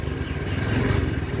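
A Honda Beat FI scooter engine runs after repair, a short close burst of steady, slightly uneven putter.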